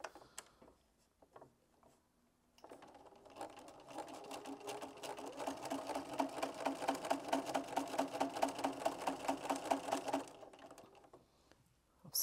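A sewing machine with a quarter-inch guide foot chain pieces small fabric patches in neutral thread, a few short bursts at first, then a long steady run of rapid needle stitching that stops abruptly; nobody speaks.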